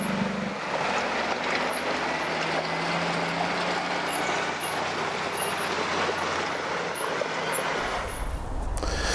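A Cat 730C articulated dump truck's diesel engine runs at a steady, moderate level after easing off from high RPM, with a continuous droning rumble and a brief air hiss near the end.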